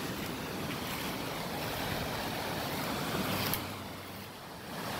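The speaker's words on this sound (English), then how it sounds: "take you over to the creek called Roaring Creek." Roaring Creek rushes in a steady, broadband wash of flowing water close by on a bright day, continuous and fairly loud with a slight dip near the end, no voices.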